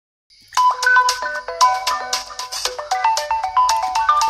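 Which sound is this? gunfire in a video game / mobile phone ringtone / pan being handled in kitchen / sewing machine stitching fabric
mobile phone ringtone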